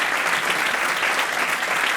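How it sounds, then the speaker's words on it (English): A lecture audience at a mental health conference applauds with steady, dense clapping that fills the room and holds an even level throughout. "Keep on applauding for Felix at the camera and Susie at the tec"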